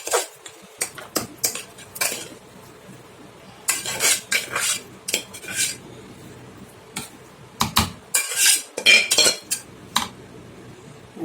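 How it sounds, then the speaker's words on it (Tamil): A metal spoon clinks and scrapes repeatedly against a hot case while cooked rice is served for lunch, in irregular bursts of close, bright utensil knocks with quiet gaps between. "இப்போ சாதத்தை ஹாட்கேஸில் போட்டுடலாம் அப்போ தான் சூடாக இருக்கும்"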